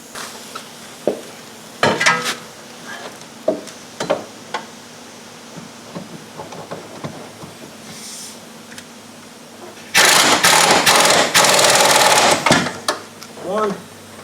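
Ratchet wrench snugging the rear shock absorber bolts on a 2010 Nissan Altima: close, scattered ratcheting clicks, then a loud dense burst of rapid clicking, with speech in between.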